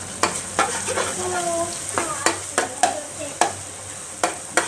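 Fried rice with Chinese sausage, dark soy sauce and sugar being stir-fried in a pan, a continuous sizzle punctuated by regular, sharp scrapes and clanks of a spatula roughly every half second, close and fairly loud.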